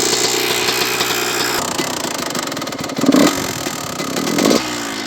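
A cold dirt bike engine running on choke, its throttle blipped in short bursts over a steady, rough idle, close and loud with no talk.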